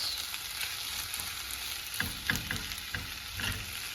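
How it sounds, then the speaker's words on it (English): Noodles fry in a hot pan for a stir fry, giving a continuous close sizzle broken by scraping stirs and clatters of a utensil against the pan. "And once you got that going, just spread the noodles out."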